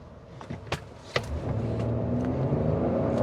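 A 2023 GMC Acadia in all-wheel drive accelerates, its engine rising into a steady, building hum from inside the cabin, with a few brief knocks early on.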